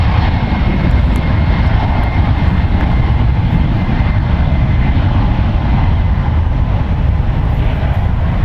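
A four-year-old United Airlines Boeing 737 MAX 9 roars down the runway at San Francisco International Airport, its jet engines a loud, unbroken, close rumble that holds steady throughout.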